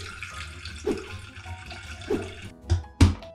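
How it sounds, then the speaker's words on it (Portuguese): Water is poured into an electric kettle in a kitchen, giving a soft trickling rush with a few louder splashy gushes toward the end, close and alone. "Para isso, eu vou usar a chaleira elétrica,"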